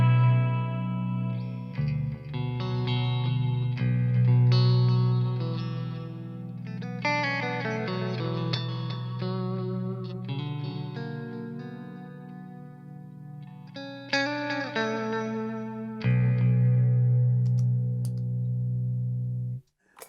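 A seven-string Ibanez Q Series electric guitar plays bright, glassy clean chords and arpeggios with chorus-like shimmer and echo over a low sustained note, ringing out steadily for about twenty seconds before cutting off, with no talking.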